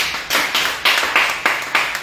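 A church congregation claps in several quick, loud bursts that come close together and each fade briefly before the next.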